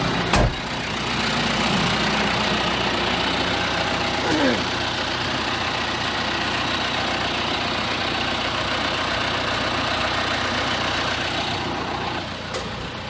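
A John Deere 5115M tractor engine idles with a steady, mid-low hum that holds throughout, a couple of brief clicks near the start and end.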